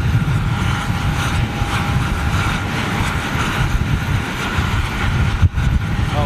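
A Boeing 747 airliner taking off at takeoff/go-around power, a steady broad roar of jet engines heard at a distance, continuous throughout with a brief knock near the end.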